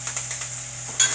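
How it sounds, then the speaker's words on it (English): Butter, rosemary, thyme and garlic sizzle in a hot pan beside a frying steak, a steady close hiss with soft stirring scrapes and a brief brighter burst near the end. "You see them sizzle in there."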